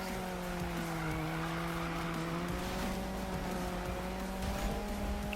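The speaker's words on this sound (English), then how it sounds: "You see here what I mean about the drifts. It does just go sideways really nicely." Volvo drifting sideways in Need For Speed, a steady engine drone with sustained tyre squeal running continuously and evenly loud throughout, no voices.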